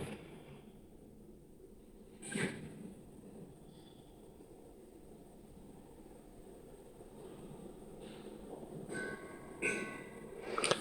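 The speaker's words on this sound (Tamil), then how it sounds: "ஸோ இது அந்த சென்ட் தாமஸ் மவுண்ட்டு போகிற ட்ரெயின்." Train on the Velachery to St Thomas Mount route in Chennai passing as a low steady rumble, with brief louder clanks and swells from the cars at intervals, heard alone without talk.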